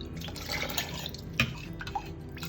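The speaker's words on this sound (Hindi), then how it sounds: "ये और भी 1 कप पानी जाएगा।" Water poured into a pot while making Gujarati kadhi with a yogurt and gram flour mixture, splashing and dripping steadily at close range, with a sharper splash partway through and no voices.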